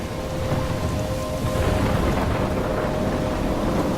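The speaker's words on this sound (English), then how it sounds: "I'm trapped in a storm?" A steady, dense downpour with rolling thunder rumbles continuously throughout a stormy scene in the game Life is Strange, loud and enveloping with no talk.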